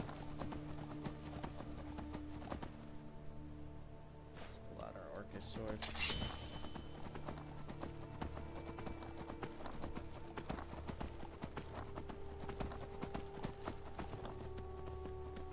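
Steady clip-clop of horse hooves trotting in Skyrim Special Edition, with someone talking over it and a brief whinny partway through.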